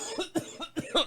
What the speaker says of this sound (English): there's my dry cough.